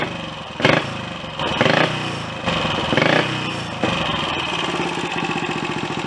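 Royal Enfield Olympic 250 motorcycle single-cylinder engine running after a top end rebuild, a steady close idle with rhythmic exhaust pulses and several blips of the throttle rising and settling.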